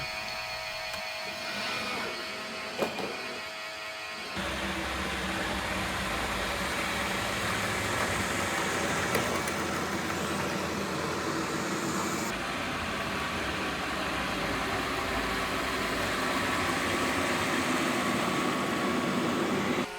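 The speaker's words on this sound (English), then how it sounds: "let's listen to what each of the robots sound like when they are vacuuming at a balanced suction" Entry-level robot vacuum and mop combos vacuum at balanced suction, a steady whirring motor hum that changes tone a few times as different units run in turn, with no talk.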